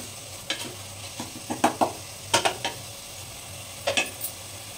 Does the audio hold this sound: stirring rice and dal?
yes